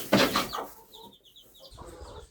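Backyard hens cluck close by in short, uneven bursts, with a few higher thin calls and soft rustling between them.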